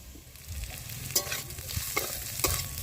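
Cauliflower is stirred while it cooks in a pan, several distinct scraping strokes over a low, steady sizzle, close and without talk.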